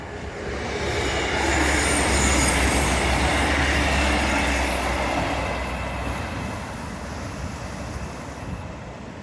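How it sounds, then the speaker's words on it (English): A train runs along the seawall railway at Teignmouth, rising to a loud, close rumble of wheels on rails with faint squeals, then slowly fading as it passes, with waves in the background. "I hear, a happy train"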